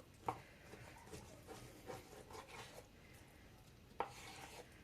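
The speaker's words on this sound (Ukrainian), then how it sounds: "Я на отакі шматочки буду нарізати." A knife works through a slab of pork fat (salo) on a board, cutting it into portions: quiet scraping strokes with two sharp taps as the blade hits the board, close and fairly faint.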